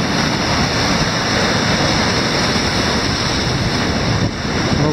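Stormy Caspian Sea surf churns and foams against the shore at Aktau, a loud, unbroken roar of waves with heavy wind buffeting the microphone.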